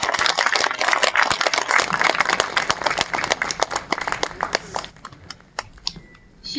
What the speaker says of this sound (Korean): 다시 한번 뜨거운 박수를 부탁드립니다.